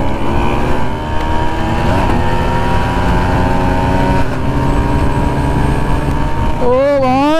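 A Kawasaki ZX-10R and a scooter accelerate hard off the line at a drag race start, with loud, continuous engine roar and rising pitch near the end as revs climb.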